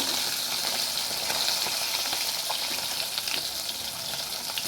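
A kadla fish head fries in hot oil for a Bengali fish-head dal, with a dense, steady sizzle and crackle that fills the whole stretch at close range.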